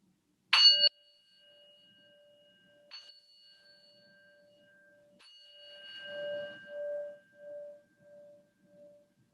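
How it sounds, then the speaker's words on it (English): A meditation bell is struck, ringing out with a bright attack and a long, pure sustained tone that slowly decays and pulses faintly as it fades into quiet. "bring your full attention to the sound of the third bell and follow it all the way to the end"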